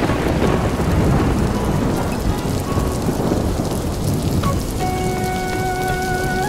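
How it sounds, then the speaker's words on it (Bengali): Rain pours steadily in an animated cartoon, a loud continuous hiss of drops on surfaces with rumbling thunder underneath, and a few thin tonal notes enter near the end. "ওই দেখ, বললাম না বৃষ্টি শুরু হবে, দেখলি তো?"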